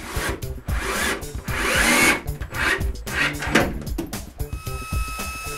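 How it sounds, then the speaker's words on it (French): Screws being driven into wooden strips on a nine-drawer dresser, heard as close, loud, repeated whirring and grinding bursts with short pauses between them. "puis je visse les baguettes."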